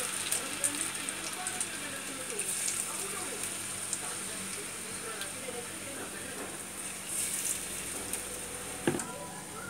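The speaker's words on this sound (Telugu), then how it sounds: "ఈ బ్రెడ్ ముక్కలన్నిటి పిండిలో వేసుకున్న తర్వాత ఇలా ఆయిల్లో డీప్ ఫ్రై చేసుకోవాలి" Battered bread pieces for bread pakoda deep-fry in hot oil with a continuous soft crackling hiss and scattered pops, nearby and fairly quiet.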